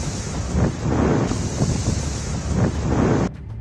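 Strong storm wind roars and buffets the microphone over a surging, crashing sea during a destructive cyclone on the Gujarat coast, loud and continuous with rolling gusts before cutting off abruptly near the end.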